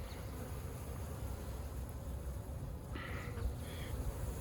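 Honey bees at an open nuc hive produce a low, continuous buzzing drone, with a few brighter, nearer passes of individual bees standing out briefly near the end.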